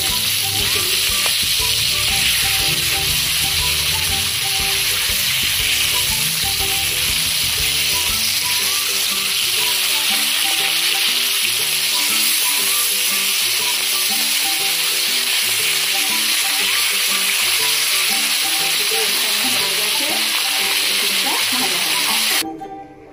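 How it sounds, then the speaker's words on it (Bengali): Pabda fish fry in hot oil with a loud, continuous hiss and crackle close by that holds steady for over twenty seconds, with a faint ticking underneath, before cutting off at the end. "পাবদা মাছ ভাজা হয়ে গেছে"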